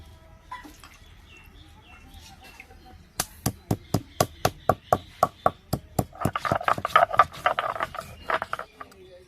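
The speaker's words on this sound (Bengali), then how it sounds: "গোটা গরম মশলা বেটে নেবো।" Whole garam masala spices are ground by hand in a village kitchen: about a dozen and a half sharp, evenly spaced knocks and scrapes of stone on stone, then busier grinding with birds or chickens chattering in the background.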